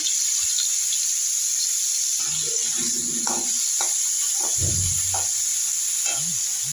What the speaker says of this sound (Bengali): আমি এখানে কড়াই বসিয়ে দিয়েছি করলা ভাজি চাপিয়ে দিলাম